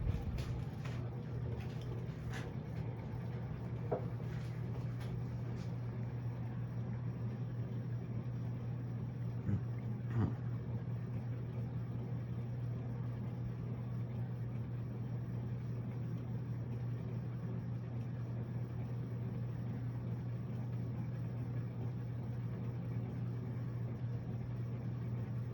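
An Evergo Hugger 42-inch ceiling fan runs at medium speed, giving a steady low hum and motor drone with a few faint ticks near the start.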